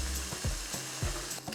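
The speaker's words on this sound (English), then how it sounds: "Now we'll throw in our tomatoes and everything." Tomatoes and other ingredients sizzle steadily in hot cooking oil in a pan for shrimp tacos de gobernador, with a few louder scraping stirs breaking through the close, continuous frying hiss.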